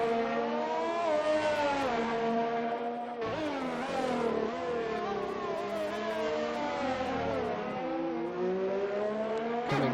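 A race car in an Xbox racing game rounds a corner at Hungary, its engine revving loud and steady, pitch sweeping down under braking and climbing back out on acceleration, with one sharp shift break and no voices.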